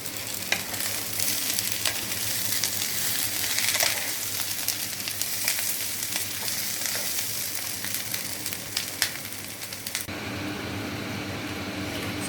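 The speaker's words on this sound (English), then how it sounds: "I'm going to toss it for around 3 to 4 minutes" Paneer being stir-fried with capsicum and onion in a pan, a steady close sizzle with scraping stirs and a drop in level near the end.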